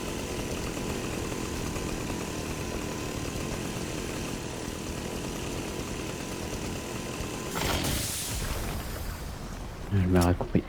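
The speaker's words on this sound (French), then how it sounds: "Tronçonneuse." A chainsaw in a video game drones loudly and continuously, with a shift in tone near the end as the player's voice talks over it.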